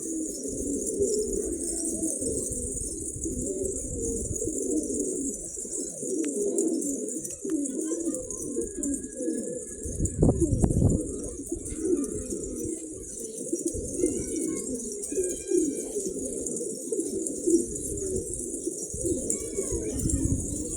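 Pigeons coo in a low, rolling murmur throughout, with someone talking over them and occasional rattling clatter nearby.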